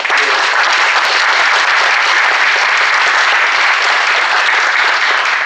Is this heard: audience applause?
yes